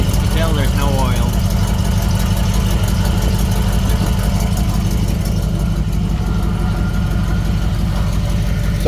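The engine of a 1953 Ford 4x4 idles steadily with a low, even rumble, loud and close throughout, while voices talk over it.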